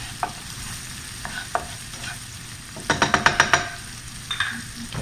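Butter, four garlic cloves and a shallot cook in a pan for a tomahawk steak recipe, a low sizzle under scattered utensil clicks and a quick burst of rapid tapping against the pan, close by, no voices.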